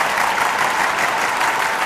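Dense audience applause at a Gaijatra comedy show, a brief continuous burst of many hands clapping close and loud without any voices.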